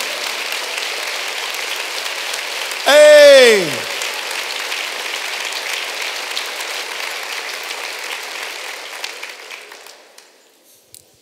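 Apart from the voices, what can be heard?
church congregation applauding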